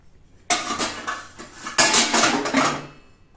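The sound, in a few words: washing dishes in the kitchen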